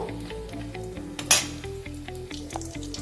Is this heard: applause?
no